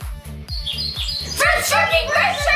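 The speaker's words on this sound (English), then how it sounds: "Birds chirping" A recording of birds chirping is played during a sound guessing game, bright twittering calls that grow denser partway through, over a rhythmic low pulsing beat and some voices nearby.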